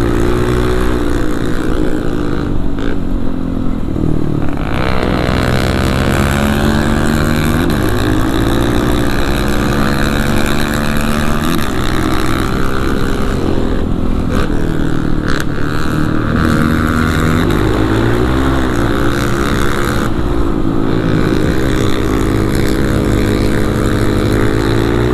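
Kawasaki KLX 450 supermoto motorcycle ridden fast, its single-cylinder engine roaring loud and close with rising and falling revs as it accelerates and shifts, under heavy wind rush throughout.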